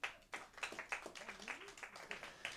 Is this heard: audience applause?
yes